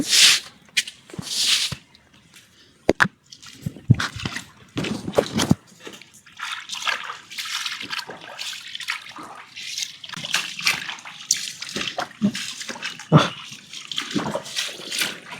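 Feet wading through floodwater on a flooded path to a house in Batticaloa, irregular close splashes and sloshing steps with pauses between, some sharp splatters and a dog heard in the mix.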